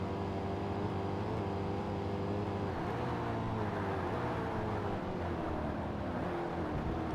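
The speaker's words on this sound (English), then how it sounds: "Chrysler coming up fast" A Chrysler race car engine in Forza Motorsport drones steadily through a lap, its tonal hum holding a constant pitch with a slight shift midway, even and moderately loud with no talk.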